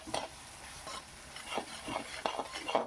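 Spiced cabbage stirred in a frying pan with a spatula. Soft repeated scraping strokes come at an irregular rhythm over a faint, quiet sizzle.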